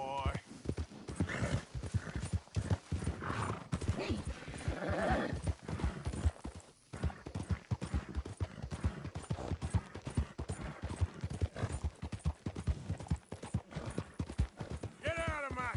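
Horse galloping in the video game Red Dead Redemption 2, with rapid rhythmic hoofbeats throughout, a brief neigh, and someone talking over the hooves.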